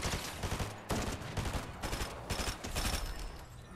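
Rapid bursts of automatic gunfire from the mythic Peter Griffin weapon in Fortnite, a dense fusillade of overlapping shots. The firing runs loud and continuous, with only a brief pause before it resumes.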